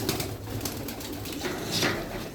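Pigeons cooing softly in a loft of Bango fancy pigeons, a breeding pair with a handsome male and a blue hen, with low repeated coos over steady background hiss and no talking.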